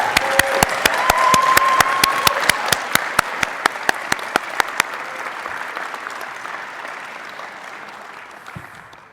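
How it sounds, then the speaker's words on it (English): Hall audience at the Labour Party annual conference breaks into applause, with sharp, regular close claps standing out over the crowd's dense clapping before it gradually tapers off. "I think we should give her a round of applause"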